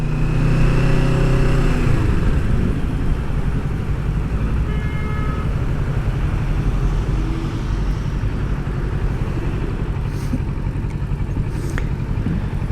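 Kawasaki Ninja 650 motorcycle engine running at part throttle, a steady droning hum with a brief rise early on, plus wind and road noise throughout.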